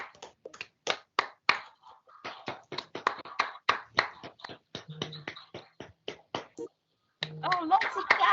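Scattered clapping from several participants at the close of an online webinar, sharp separate claps at varied pace, with brief speech and a faint tone near the end.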